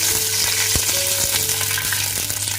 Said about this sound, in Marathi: नंतर इकडे एक चम्मच जिरा घातलेला त्याच्यामध्ये एक ग्लास पाणी घालायचं आहे